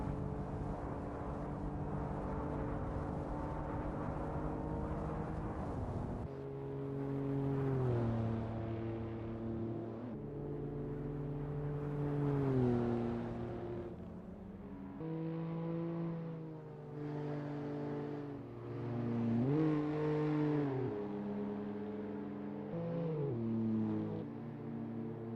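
Small Citroën C1 race cars lap Lime Rock Park in the Assetto Corsa sim, a steady engine drone rising and falling in pitch through gear changes and corners, with several cars audible, loud and continuous, without any talk.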